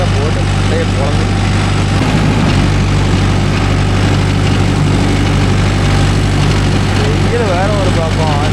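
A Mahindra Yuvo Tech Plus 585 4WD shuttle-gear tractor pulling a five-tine cultivator drones loud and steady at close range, a heavy low engine hum running unbroken throughout, with someone talking over it.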